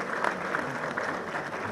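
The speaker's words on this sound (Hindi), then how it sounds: "तो ताली बजा के कहे ताकि पता चले," Crowd clapping at a political lawyers' forum rally in Islamabad, a steady, fairly loud wash of many hands applauding throughout, with no speech over it.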